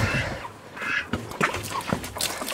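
Homestead ducks near water give a few short, nasal quacks and honks in quick uneven bursts, close by and fairly loud against a quiet yard.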